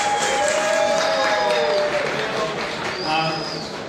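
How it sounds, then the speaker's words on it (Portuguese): Audience applause at the official Brazilian launch event for the PES 2018 football game, a steady wash of clapping from a crowd that holds for several seconds and then eases slightly. "Uma salva de palmas pra ele, por favor."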